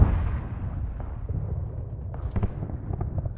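Mortar rounds firing in an Arma 3 winter battle, a low rumbling blast followed by a cluster of sharper distant thumps and pops near the end, with no talk.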